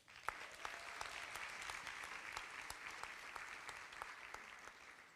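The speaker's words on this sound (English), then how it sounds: "please give them a round of applause" An audience at a school graduation ceremony claps steadily for about five seconds, with dense, moderately distant applause and sharp individual claps standing out.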